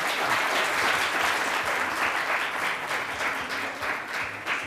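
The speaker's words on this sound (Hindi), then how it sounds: "इनके लिए तालियां बजाएं" Studio audience applauding steadily on a televised morning cooking show, a dense, sustained wash of clapping that holds at full strength throughout with no talk over it.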